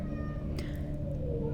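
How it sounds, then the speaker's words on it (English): A pet cat named Pixel lets out a short meow in the background, faint and brief, over a steady low hum from game audio in Subnautica. "You might be able to hear my little fluffy kitty Pixel meowing in the background"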